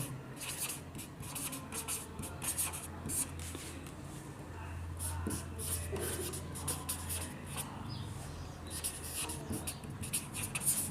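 Marker or chalk scratches across a board during a maths lesson on the number system, in rapid, rubbing strokes that come in repeated bursts at close range.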